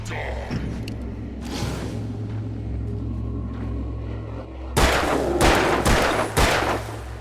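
Gunfire in the video game Alan Wake sounds over a low rumbling drone, starting with a faint early burst and then a loud cluster of sharp, close shots near the end.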